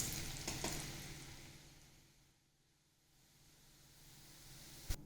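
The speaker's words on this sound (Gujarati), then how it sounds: "હવે આપણે આ ચોખાના પૌવાને તળી લઈશું." Rice flakes (poha) frying in hot oil, a soft sizzling hiss that fades to near silence midway and then builds again, ending with a sharp clink.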